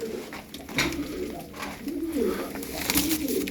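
Tumbler pigeons cooing in soft repeated throaty phrases, close and fairly clear, with light background rustle.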